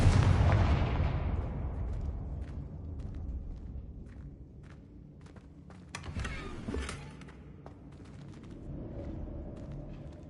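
Spell blasts in the Hogwarts Legacy video game, including Confringo, open with a loud booming explosion that decays into rumbling debris, followed by a second thud and scattered clicks and footsteps, without talk.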